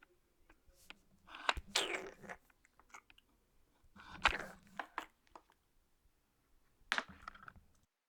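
Raw cucumber is crunched and chewed close to the mic in three separate bursts of moist, crisp bites, with quiet gaps between them.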